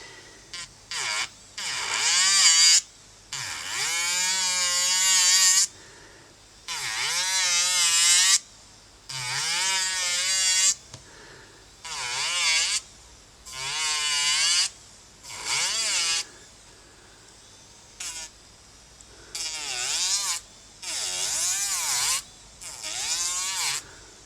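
A 35,000 RPM electric nail file whines in repeated bursts of a few seconds each, its pitch sliding up and down as it spins up and is pressed against a nail, with short quiet gaps between runs.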